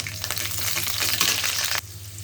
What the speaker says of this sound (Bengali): রসুনের কোয়া একটু সুন্দর করে ভেজে নিব লাল লাল করে